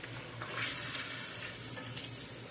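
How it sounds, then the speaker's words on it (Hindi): Garlic, ginger and green chili sizzle steadily in a hot karahi pan while being stirred, with a few light scrapes over the continuous frying hiss. "और इसमें गार्लिक है, जिंजर है और ग्रीन चिली है, ये आपने डालना है। और इसको थोड़ा सा आपने मिक्स करना है"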